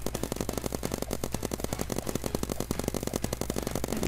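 An Uzi machine gun fires in a Roblox paintball game, a rapid, steady stream of evenly spaced shots running continuously at close range.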